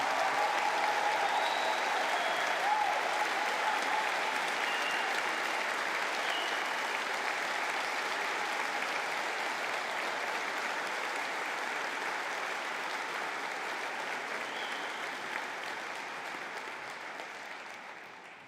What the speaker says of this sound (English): can we please have one final round of applause for Department of Midlands Media and Design